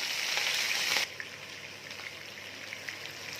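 Tripe frying in a pan, heard as a loud hissing sizzle that suddenly drops to a softer, steady frying sound, dotted with small crackles and pops, close by.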